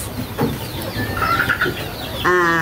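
Asil chickens cluck close by in short, scattered calls with soft background noise, ending in a louder drawn-out cackle.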